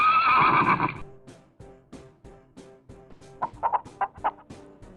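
A horse gives a loud, quavering whinny at the start, followed by quieter snorts and soft rhythmic sounds, with a few clucking fowl calls later on a farm.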